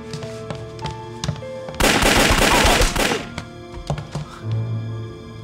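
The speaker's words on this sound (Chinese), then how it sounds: "有枪声" Gunfire in a wartime period drama: scattered single shots, then a dense, loud burst of rapid shots lasting about a second, with more isolated cracks afterward over background music.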